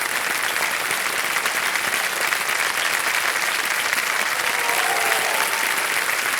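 Dense, steady applause from a large studio audience on the TV quiz show Kaun Banega Crorepati fills the whole stretch without pause, loud and sustained.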